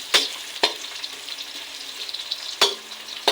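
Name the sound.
stirring onions frying in a pan for tinola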